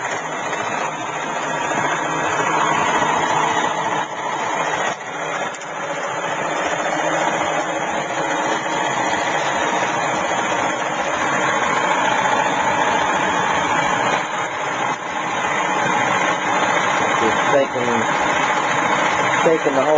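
A homemade neodymium magnet motor on a hex rod spins at high speed, its loud steady whirring rattle vibrating the table continuously and close up, with no pauses across the stretch.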